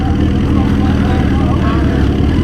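The engine of a 2020 Suzuki GSX-R1000 revs hard during a dry hop in a drag launch test, a loud, steady, close roar that holds through the whole stretch.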